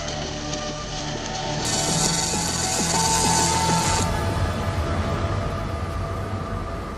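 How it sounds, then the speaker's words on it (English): An industrial welding robot running its weld program, giving a continuous mechanical whir with shifting motor tones and clicking, gear-like ratcheting at moderate loudness. "The robot works out the most efficient route and runs the program."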